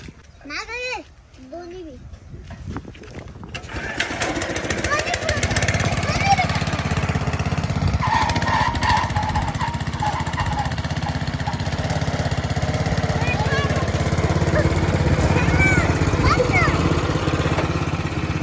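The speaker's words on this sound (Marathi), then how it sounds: "तर आपण ट्रॅक्टर पहिले चालू करून घेऊ" A tractor engine cranks and catches after a few seconds, then settles into a loud, steady diesel rumble that runs on. A voice speaks briefly before it starts.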